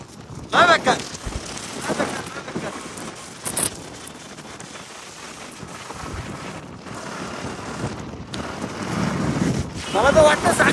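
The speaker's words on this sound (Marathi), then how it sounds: "परत पाऊस, वारा पाणी सुटला." Strong wind and rain lashing a coastal Koli village procession, gusts buffeting the microphone in loud rushing bursts with a continuous roar of rain and weather noise, and voices heard faintly in between.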